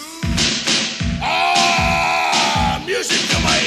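Heavy drum hits thump in a steady, evenly spaced beat while loud voices yell and chant over them, on a comedy wrestling record.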